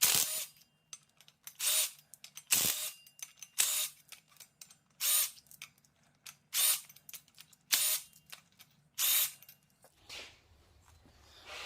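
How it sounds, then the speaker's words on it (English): Impact wrench loosening flywheel bolts on a Honda Prelude: eight or so sharp, separate bursts of hammering whir, each about a second long, with short quiet gaps between them, close up and fairly quiet overall. "We'll use the impact to get them off."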